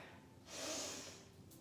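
A single close, breathy exhale from a yoga instructor during a hatha flow, swelling and fading over about a second in a quiet room.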